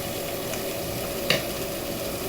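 Salisbury steak and gravy sizzling quietly in a frying pan, a steady soft crackle with one brief scrape of stirring partway through.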